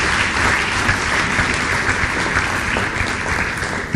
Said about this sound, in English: So please, let's give her another round of applause.